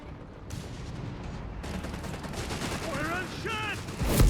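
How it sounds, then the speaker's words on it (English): Artillery barrage in the real-time strategy game Company of Heroes 3, a dense rumble of distant gunfire and shell impacts rolling continuously under a short burst of game voice chatter. "Got a single artillery barrage here."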